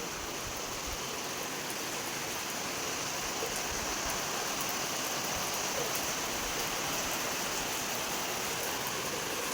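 Heavy rain pours steadily as a dense, unbroken hiss of many drops striking nearby surfaces, loud and continuous throughout with no voices.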